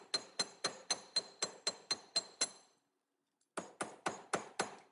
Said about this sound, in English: Careful when you're hammering.